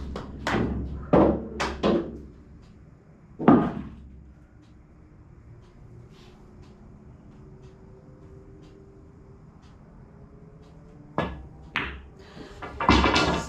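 Pool balls clack during a 9-ball shot, a quick cluster of sharp knocks near the start and another hit a moment later, then a long quiet stretch before more knocks close by at the end.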